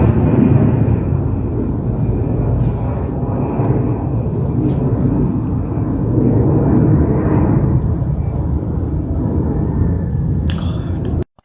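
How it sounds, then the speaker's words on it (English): A continuous low roar of an aircraft passing overhead holds steady throughout, loud and rumbling, before cutting off abruptly at the end. "Why should the aeroplane be flying at this time of the day?"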